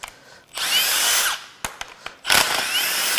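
A power tool whines at close range as it spins out the valve cover bolts on a 2014-2019 Jeep 3.0 EcoDiesel engine, two loud sustained bursts separated by a short pause filled with sharp clicks and knocks.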